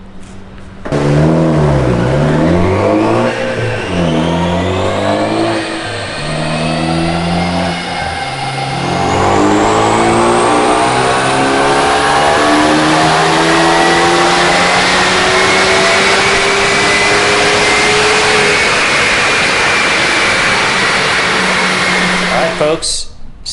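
A Ford Focus ST with a 2.5-inch catback exhaust runs up on a dyno, the engine note climbing steadily through the gears with repeated rising sweeps, loud and close, ending in a sharp cutoff.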